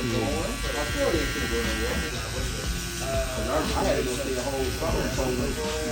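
An electric hair clipper buzzes close by while cutting a high taper, its drone running beneath a barber talking almost continuously.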